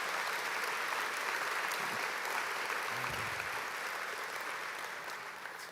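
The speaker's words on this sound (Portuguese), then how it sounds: "Pode dar uma salva de palmas a Jesus." A church congregation claps for Jesus in steady, dense applause that fills the whole stretch, loud and sustained, with no voices rising above it.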